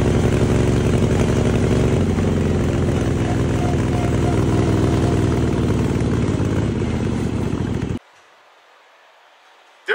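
A John Deere JD214 mud mower engine running too rich, a loud rough steady roar for about eight seconds that cuts off abruptly into near silence.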